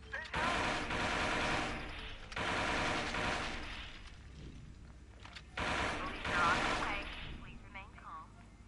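Rapid automatic gunfire erupts in Watch Dogs 2: loud sustained bursts separated by short lulls, with voices and radio-like chatter mixed in over the shooting.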